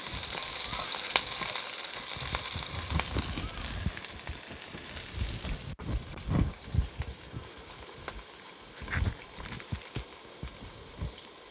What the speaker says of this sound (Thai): ใส่พริกกระเทียมที่เราเตรียมไว้นะคะ ผัดให้หอมเลยนะคะ